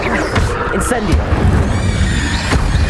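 A fire spell is cast in the Hogwarts Legacy video game, heard as a roaring whoosh of flame with booming low impacts and crackling bursts, loud and close over continuous game sound.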